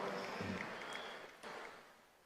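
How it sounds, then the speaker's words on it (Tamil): A crowd of women clapping for a speech at a large public gathering, a brief, fairly faint patter of applause that trails away. "உற்சாகமா கைத்தட்டல்களை வழங்கின சகோதரிகள் அனைவருக்கும் என்னுடைய நன்றி"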